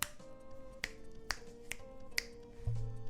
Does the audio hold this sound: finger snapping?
yes